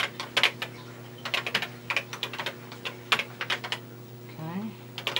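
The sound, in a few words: typing on a Tandy Color Computer 3 keyboard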